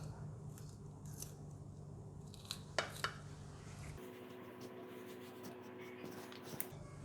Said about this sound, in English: I'm going to use the scissors just to cut it like that